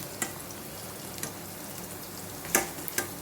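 Cauliflower pieces coated in masala frying in hot oil, giving a soft, steady sizzle with a few sharper crackles and pops, fairly quiet and with no talking.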